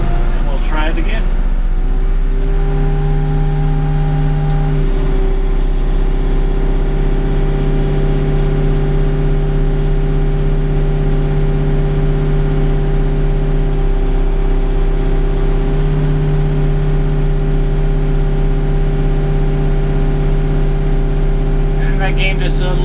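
A Bobcat tractor engine with hydraulic problems runs near at hand and rises to a higher, steady drone around 2,000 RPM, a loud continuous mechanical hum that holds for the whole stretch, with a voice speaking briefly over it.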